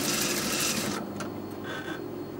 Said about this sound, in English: we're just going to stitch around in a round circle